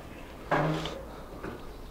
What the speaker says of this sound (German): dann geht hier die Schublade auf